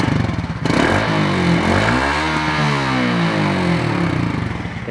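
A Suzuki Smash FI motorcycle engine catches after a kickstart and runs close and loud, revving up and back down once before settling to a steady idle.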